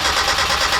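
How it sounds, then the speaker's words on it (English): A turbocharged high-compression 1.6-liter Miata engine cold starting, a loud steady close-up mechanical roar with a slight pulsing rhythm, no voices. "Yanni's getting the cold start dialed in."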